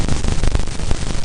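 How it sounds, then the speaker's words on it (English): Space sound recording of Callisto, Jupiter's moon, heard as a dense, loud wash of crackling static with rapid flickering pulses, like a glitching television, continuous and alone. "Callisto sounds like a glitching TV or something."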